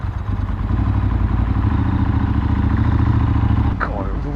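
A motorcycle engine runs steadily close by, a deep rumbling idle with a throbbing low pulse that holds for several seconds before a brief clatter near the end.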